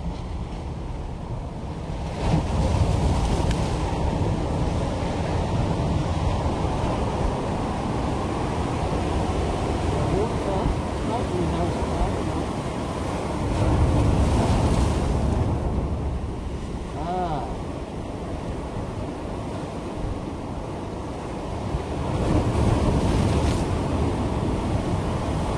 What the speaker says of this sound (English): You can see the waves are really good for surfing.